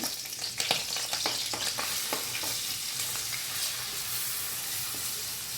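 Oil poured into a hot pan while cooking rice sizzles loudly and continuously, with a burst of crackling and spoon clatter at the start that settles into an even, steady hiss, close up with no speech.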